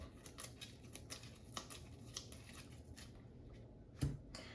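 Game pieces for the board game Zhanguo: The First Empire being shuffled by hand, a soft, quiet run of clicking and rattling taps with a louder knock near the end, no talk.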